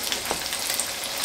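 Crab legs and lobster deep frying in hot oil give a steady, dense sizzle with fine crackling pops, close and even throughout with no voices.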